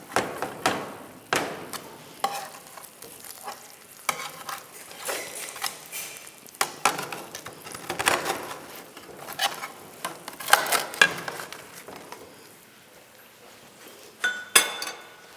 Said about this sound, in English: So the other part is now to put the roast potatoes.